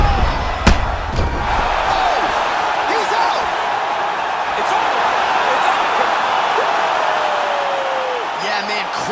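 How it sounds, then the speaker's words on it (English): A video game crowd roars in a steady wash of cheering at a UFC 4 fight, Israel Adesanya versus Tiger, with a couple of sharp impact thuds near the start and a commentator talking over it. "Yeah, man, crowd loving it."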